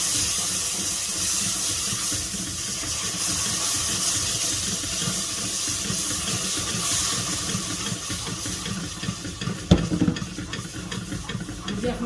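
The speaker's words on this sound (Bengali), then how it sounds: "এখন আমি পানি যে জাল দিতেছিলাম পানিগুলো অ্যাড করলাম" Water goes into browned flour cooking for maida halwa, giving a steady loud hiss and bubbling sizzle, with a short clattering stir near the end.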